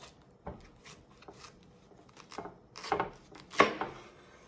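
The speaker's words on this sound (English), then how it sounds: "So you want to cut them pretty thick." A knife slices a cauliflower into thick steaks on a cutting board, giving several separate crunchy cuts at uneven intervals, close and clear, with no voices.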